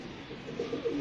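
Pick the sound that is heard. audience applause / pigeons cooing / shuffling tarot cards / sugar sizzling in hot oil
pigeons cooing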